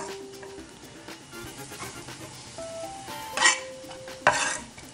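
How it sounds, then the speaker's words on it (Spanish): Chopped onion hits a drizzle of olive oil in a hot pan for a Bolognese sauce, giving a soft, close sizzle that is broken by a few sharp clinks of utensil against pan near the end. "Y ahora vamos con el chorrito de aceite. Fuego. Y añadimos la cebolla."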